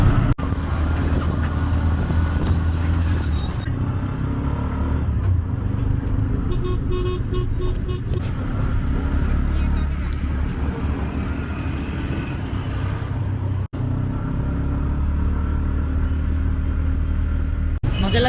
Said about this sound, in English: Yes, first tuk-tuk ride.